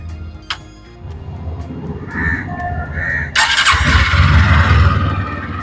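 A 2025 Bajaj Pulsar N125 125cc motorcycle cranks with a brief starter whine, then catches and settles into a steady, close, fairly loud idle running alone without talk.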